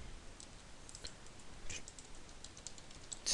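Typing on a computer keyboard, a few soft, quick key clicks in a short irregular burst, close and quiet against low room noise.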